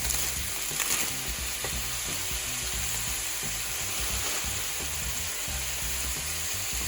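Young pea pods and broccoli sizzle and crackle in a hot pan with steady frying hiss and some stirring clatter, close and continuous throughout.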